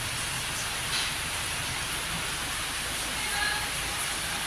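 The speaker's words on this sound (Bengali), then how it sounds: "বৃষ্টি পড়েই যাচ্ছে" Rain falling steadily as a dense, even hiss with no breaks, moderately loud and alone.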